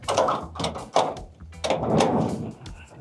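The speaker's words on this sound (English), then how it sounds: "Door always sticks." A sticking door forced open, several scraping, thudding pushes and a rattling release, close and fairly loud, with no talk over it.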